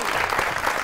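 Brief burst of audience applause as a singer is welcomed on stage, dense clapping heard only for a moment.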